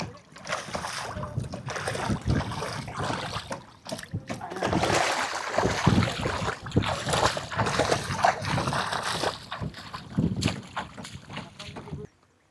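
Small fishing boat on the water at a dried-fish village in India, with steady sloshing, splashes and a low continuous rumble under nearby voices for most of the stretch, ending abruptly.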